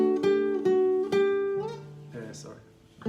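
Electric guitar slowly playing a passage of a song, with ringing single notes and a held chord fading out, close and fairly quiet, ending in a brief fumble.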